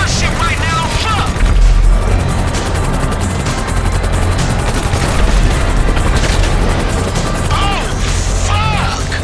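Rapid gunfire and booming explosions from the GTA 5 mission Three's Company fill a dense, loud, continuous stretch of game action, with mechanical clatter throughout.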